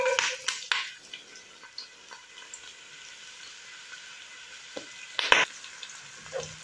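Onion sizzles and fries in a pan, a soft steady crackle broken by a few louder stirring clatters.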